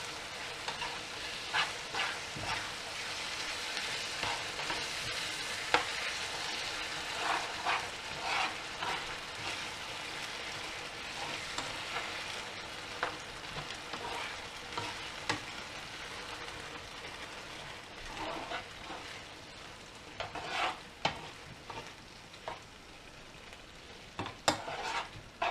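Shepherd's pie filling of meat and thickened beef stock being stirred in a hot pan, a steady bubbling sizzle broken by soft scraping and clattering spoon strokes, no voices.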